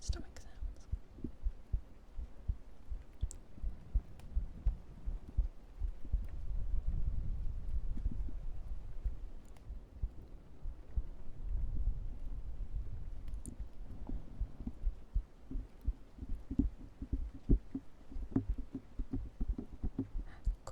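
A low, muffled heartbeat-style thumping, close-up with a rough, rumbling texture, pulses steadily for a long stretch with no talking over it.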